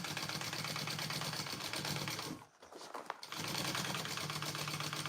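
A sewing machine bastes two bag pieces together with a rapid, even mechanical rattle of stitching, close and steady, briefly pausing near the middle before running on again, with no voices.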